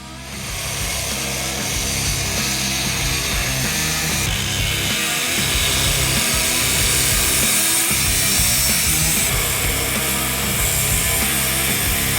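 Steady grinding saw cutting through a steel exhaust pipe on a Honda CT90, loud and continuous for the whole stretch, with a harsh high-pitched rasp over a rumbling motor.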